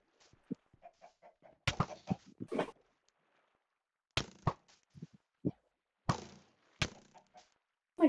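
Chickens cluck in the Minecraft video game on Xbox, short separated bursts of clucks and squawks scattered over several seconds, fairly close, with quiet gaps between and occasional soft thuds.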